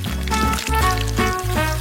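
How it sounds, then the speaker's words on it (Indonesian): Dough for kebab pita bread, mixed with eggs, fries in a pan with a loud, continuous sizzle, crackling close up with brief dips in intensity and no talking. "Sekarang, aku akan memasukkan ke dalam wajan dan menggorengnya."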